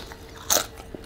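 A single crunchy bite into a carne asada burrito with refried beans, cheese and guacamole, close to the microphone, one crisp burst in an otherwise quiet moment.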